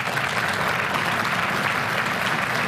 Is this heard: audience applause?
yes